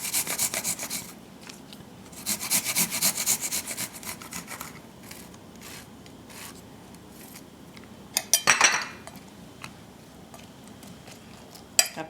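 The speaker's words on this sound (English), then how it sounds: "Then I follow it up with my garlic, 3 cloves of garlic that I'll be grating here" Three garlic cloves are rubbed against a grater in a home kitchen, giving bursts of dry, raspy scraping in uneven strokes. Quieter pauses fall between the strokes, and one short louder scrape comes near the end.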